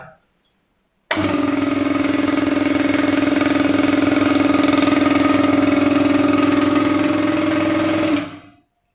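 A belt-driven piston air compressor kicks on and runs at a steady, loud mechanical chug with a droning hum, then cuts off and winds down.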